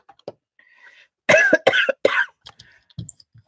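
Three sharp coughs in quick succession, close and loud, surrounded by quiet breathing and small mouth noises.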